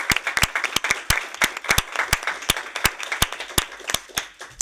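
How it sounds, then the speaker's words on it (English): Applause from the audience at a panel discussion: a brisk burst of many hands clapping, loud and dense, with sharp individual claps standing out. "Big round of applause."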